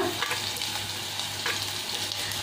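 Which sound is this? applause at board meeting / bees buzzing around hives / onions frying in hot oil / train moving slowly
onions frying in hot oil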